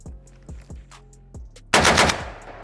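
Rifle fitted with a muzzle device fires a series of sharp, close shots in an uneven rhythm, ending in one louder, longer blast with a broad roaring burst that rings out and fades.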